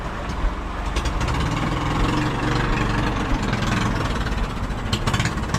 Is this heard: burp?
no